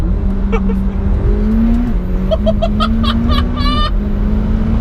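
A 2017 McLaren 720S accelerates hard from inside the cabin, its engine note climbing in loud, repeated surges with quick gear changes stepping the pitch back down, while a person exclaims over it.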